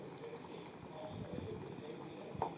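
Banana flower vada fry in oil on a low flame, giving a faint, steady bubbling sizzle with a few small pops over a short stretch.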